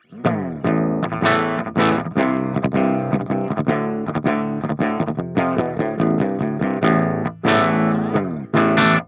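A Solar baritone guitar tuned to drop A plays through an Amped ML800 with no effects pedal engaged, giving loud, steady, heavily distorted high-gain chugs and chords with brief rests between phrases.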